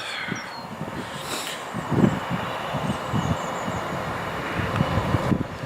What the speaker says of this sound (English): Right, this is our train now, straight back to Settle.